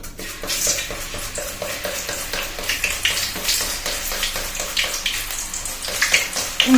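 Sliced raw plantain fries in hot oil with a busy, continuous bubbling sizzle, punctuated by quick stirring scrapes in a fairly steady rhythm, close and moderately loud.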